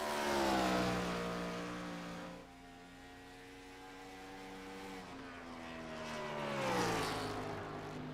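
A race car engine in the iRacing game at Talladega drones steadily, its pitch sliding down and then climbing again as it revs, loud and continuous with no talk over it.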